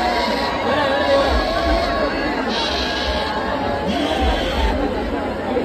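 Dense, loud babble of a large crowd at a Ravan Dahan festival in Rohtak, many voices overlapping close by in a steady, unbroken hubbub with occasional louder shouts.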